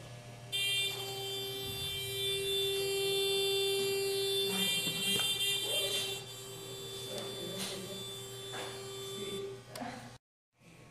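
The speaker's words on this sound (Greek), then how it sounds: "Το μαγνητικό διακόπτη, το οποίο όταν ανοίξουμε την πόρτα χτυπάει ο συναγερμός." A smart home alarm set off by a magnetic door switch, sounding as a loud steady electronic buzzing tone with high harmonics that holds for most of the stretch, then cuts out near the end.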